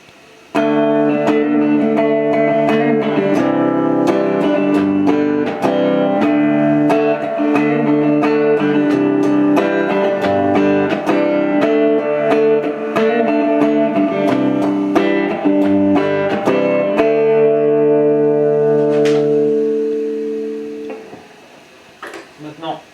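Guitar notes played through the reverb of an M.P.Electronics effects unit, loud sustained tones with a washy tail and heavy hiss, a run of repeated plucked notes fading out at the end.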